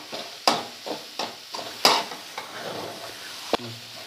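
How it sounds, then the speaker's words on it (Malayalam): Spoon strokes stirring banana flower thoran with grated coconut in a pan, several distinct scraping pushes at an uneven rhythm over a soft sizzle, close and moderately loud with no talking. "നന്നായിട്ടൊന്ന് അടി കൂട്ടിയിട്ട് നന്നായിട്ട് ഒന്ന് മിക്സ് ചെയ്ത് കൊടുക്കുക."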